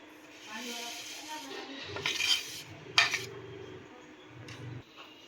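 Vermicelli being stirred into reduced milk in a pot for custard apple payasam makes soft metal scrapes and clinks of a spoon against the pot, interrupted by a couple of sharper knocks. The sound is quiet and close.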